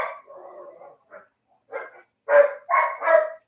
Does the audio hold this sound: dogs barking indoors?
yes